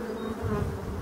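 Black bees hum at a hive entrance, a close, continuous buzzing drone with no voices.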